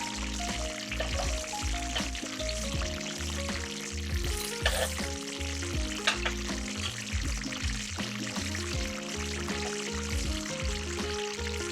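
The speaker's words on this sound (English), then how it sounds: "Now it only takes a few minutes on each side to fry." Vegan jackfruit pieces fry in a pan with a steady, close sizzle and crackle, with occasional scrapes and clinks from a utensil as the pieces are turned.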